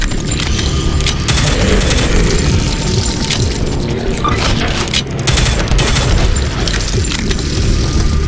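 Gunfire in the first-person shooter Prodeus: loud, dense bursts of rapid shots and booming blasts that run almost continuously, with no talking.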